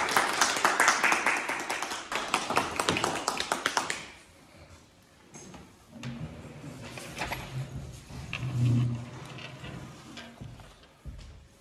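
Clapping at a civil wedding ceremony in a Turkish marriage registry office, a burst of dense hand claps in the first few seconds that fades into a quieter room with light movement and faint murmur.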